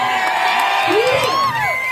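A crowd at a colourful comedy show cheers and whoops loudly, with shouted voices rising over a steady roar of the audience.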